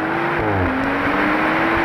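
A 2014 BMW M235i engine accelerating hard, a loud, close, steady drone with rising engine pitch and a gear shift partway through.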